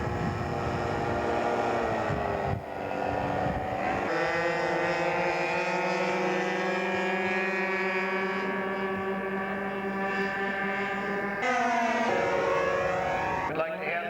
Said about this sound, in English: Cliff Tacey taxiing out for a test flight